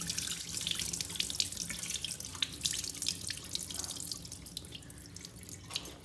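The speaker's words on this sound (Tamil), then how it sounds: "அரிசியை நல்லா 2-3 தடவை கழுவிட்டு ஊற வைங்க." Rice being washed two or three times in water at a kitchen sink before soaking, for Sri Lankan milk appam; steady running and splashing water with intermittent drips and swishes, close and continuous, no talking.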